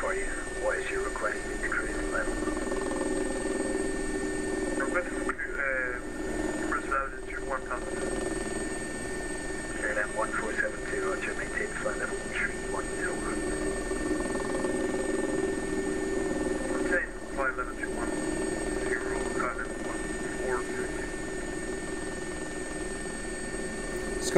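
An SA-342 Gazelle helicopter flies in the X-Plane 11 simulator on an air ambulance flight near Falkirk, its rotor and turbine drone steady and close throughout, with talk and radio-like chatter layered over it.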